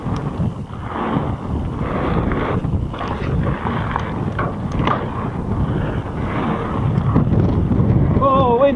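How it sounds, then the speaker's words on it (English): Wind buffets the microphone at a bike park, a loud, continuous low rumbling roar that swells toward the end, with faint higher sounds mixed in. "Oh, wind's picking up."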